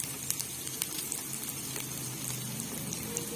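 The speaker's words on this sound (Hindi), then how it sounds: "ये हमने डाल दिया प्याज को हम हल्का ब्राउन करेंगे।" Onion frying in a pan until light brown gives a steady, crackling sizzle with scattered sharp pops, a constant moderate hiss close by, with nobody talking.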